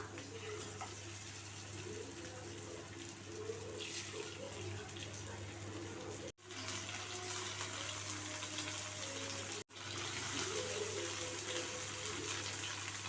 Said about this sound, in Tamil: இப்போ எண்ணெய் காஞ்சிருச்சு இதில் ரெண்டு கொத்து கருவேப்பிலை வச்சுக்கோங்க இப்போ இது மீனை ஒவ்வொரு மீனாக வச்சுக்கலாம்